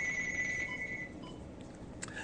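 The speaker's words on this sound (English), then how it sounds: "I love live radio because the phone rings and that's all you hear." A telephone rings during a live radio show, a steady electronic ring tone that is clear and prominent for about a second, then fades under low background noise.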